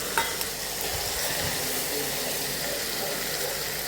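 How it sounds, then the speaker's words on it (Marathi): Tomato puree sizzling as it hits fried onion in a pan for cashew curry, a dense hissing fry with a brief clink at the start, close and without talk. "आता ह्याच्यामध्ये आपण ही प्युरी टाकू टोमॅटोची"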